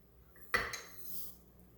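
A fork stirs sprinkles into birthday cake batter in a mug, giving two quick, close metal-on-ceramic clinks followed by a soft scrape, with no talking.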